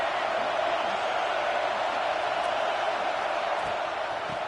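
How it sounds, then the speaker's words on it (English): Home crowd at a Texas vs Auburn college football game roars in a steady, dense wash of cheering and noise, loud and sustained without pause. "how nice is it to have the home crowd going absolutely bananas"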